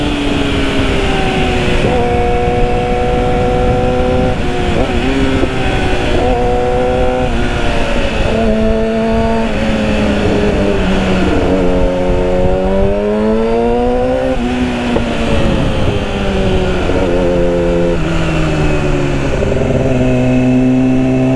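A 2008 Yamaha R6 sport motorcycle revs and accelerates through gears on a ride, its high engine whine climbing and dropping repeatedly with shifts, loud and close the whole time.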